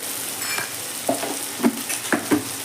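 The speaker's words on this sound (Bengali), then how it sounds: "নুন হলুদ দিয়ে আলুটাকে আমি খুব ভালো করে এবার নেড়ে নিলাম" Sweet potatoes sizzle and fry in hot oil with salt and turmeric while a spoon stirs them, giving a steady close crackle broken by several distinct scraping stirs against the pan.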